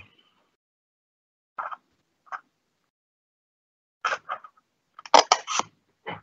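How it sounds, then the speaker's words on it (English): Scissors snip through folded paper for a paper shirt craft, a few sparse cuts at first, then a quicker cluster of close, crisp snips with short pauses between. "You want to cut about a centimetre down with the scissors."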